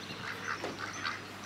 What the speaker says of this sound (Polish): Tam są kaczuszki.